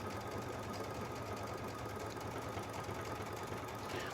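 A Baby Lock sewing machine zigzag stitching with a leather roller foot, a steady, fast mechanical whirring and rapid needle clatter, constant and close throughout.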